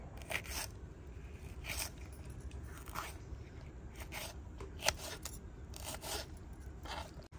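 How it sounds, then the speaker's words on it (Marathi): A knife slices capsicum into long strips on a board, making roughly ten brief scraping cuts at an uneven pace, some in quick pairs, close and quiet over a low background rumble. "आता आपण शिमला मिरची कापून घेणार आहोत। शिमला मिरची पण लांब लांब कापणार आहोत।"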